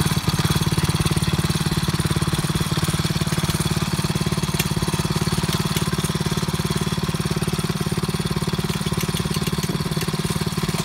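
The engine of a 2021 DEEPROCK HD 55 Pro Series water well drilling rig runs at a steady, loud, close idle with a fast rhythmic chug and no voices.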